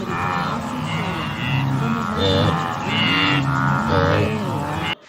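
A farm cow lows repeatedly in long, deep moos, several drawn-out calls in a row, loud and close with no talk over them.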